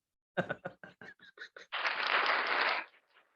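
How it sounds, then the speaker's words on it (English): A soundboard applause effect bursts out as a dense crowd-clapping roar lasting about a second, right after a short run of choppy, laugh-like pulses, then cuts off cleanly. "Oh, applause."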